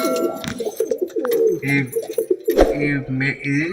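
Pigeons coo softly nearby while someone talks over them almost continuously.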